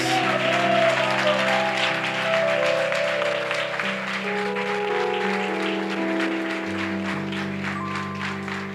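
A church congregation applauds loudly and steadily for nearly nine seconds, a thick sustained wash of clapping with a sustained tonal sound running underneath.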